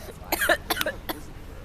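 A few close, rough coughs in quick succession, with a throaty clearing sound in between, heard alone.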